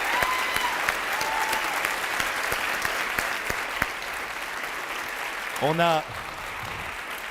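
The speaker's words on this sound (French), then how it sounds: "Une très bonne main d'applaudissements pour M." An audience applauds a Québec chef with a steady, dense wash of clapping that holds evenly, then a voice briefly speaks near the end as the applause continues.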